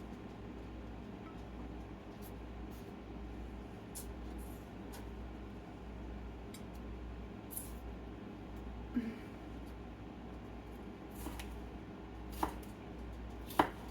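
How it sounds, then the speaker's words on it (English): Peppers and onions are chopped on a cutting board, with scattered soft knife taps at an uneven pace, faint under a steady background hum and no talk. "There's something quite satisfying with chopping up your vegetables."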